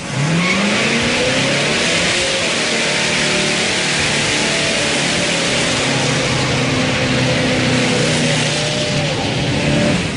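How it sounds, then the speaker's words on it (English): A classic muscle car with an automatic transmission does a burnout, its engine roaring loud and continuous close by for about ten seconds with tire squeal layered over the revving. "This thing does a great burnout."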